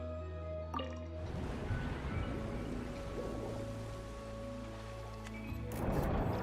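Water draining out of a sluice chamber in a video game: a continuous gurgling, trickling wash under a steady low hum, running throughout and swelling briefly near the end.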